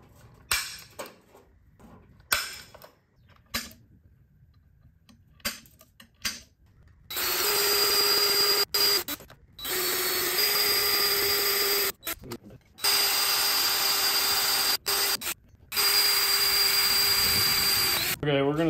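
A drill runs in several long, loud bursts drilling a pilot hole after a center punch, following a stretch of quiet tapping and handling, steady whine with short pauses between runs.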